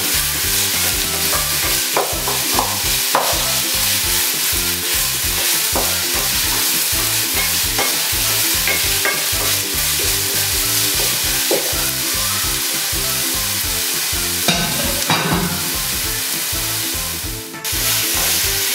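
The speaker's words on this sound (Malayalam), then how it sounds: "ഇതിൻ്റെ പച്ചപ്പ് മാറുന്നത് വരെ നമുക്കൊന്ന് ഇത് ഇളക്കി വഴറ്റിയെടുക്കേണ്ടതാണ്" Gravy for chicken varattiyathu is sautéed in a pan with a steady sizzle, broken by repeated rhythmic scrapes and clacks of a spoon stirring, close and continuous without talk.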